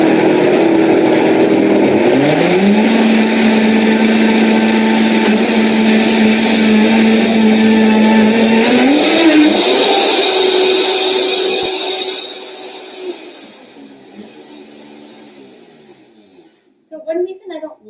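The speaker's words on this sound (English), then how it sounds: "So one reason I don't love to use the blender for this" Blender whirring loudly and steadily as it blends cocoa and almond butter into a vegan chocolate mousse, the motor pitch dipping and climbing before winding down, followed by a few faint clinks.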